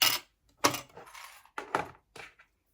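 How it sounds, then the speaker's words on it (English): Small metal clicks and rattles as a zipper presser foot is unclipped and removed from a sewing machine, several short separate taps close by with quiet gaps between them. "I want to remove the zipper foot."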